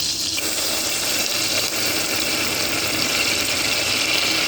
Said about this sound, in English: we're going to go ahead and add in some white wine, or you can use broth if you like.